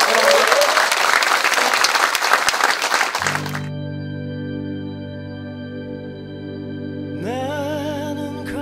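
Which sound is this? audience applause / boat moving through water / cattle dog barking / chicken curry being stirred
audience applause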